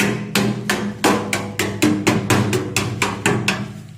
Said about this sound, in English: Hey, there is a hammer.